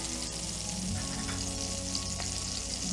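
Shallots hit hot oil in a pan and sizzle with a dense, steady crackle that holds at an even level throughout, with no voices.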